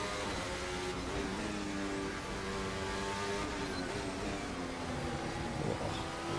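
Sustained engine drone from a 2026 Formula 1 race car in the racing game Assetto Corsa, with steady layered harmonics shifting slightly in pitch, loud and continuous throughout.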